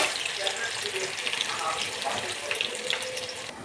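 Onions frying in hot mustard oil over a high flame, a close, continuous crackling hiss with small pops and faint scraping throughout.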